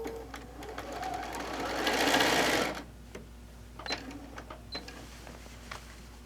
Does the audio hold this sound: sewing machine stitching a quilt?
yes